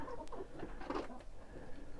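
A young April-hatched rooster, Livenska chintz or White Leghorn, clucks and rustles inside a bag, with a few muffled, close low calls over soft shuffling noise.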